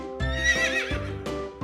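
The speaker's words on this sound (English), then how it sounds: "It's a horse. Horse says, neigh!" A horse neighs in a loud, close whinny that rises and breaks into several shaky pulses, with faint hoof clip-clops alongside and no talking.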